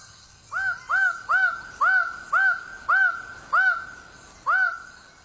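Birds of paradise calling at a dawn display site, a run of loud, clear, evenly spaced honking calls, about eight in a row, with quiet gaps between them.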